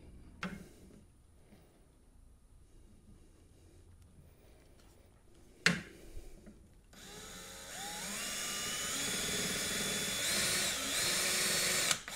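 A power drill whirs as it enlarges holes in the body of a Mini Jeep during a grill swap: a few brief knocks and handling sounds, then a sustained, rising drill whine running steadily for several seconds up close.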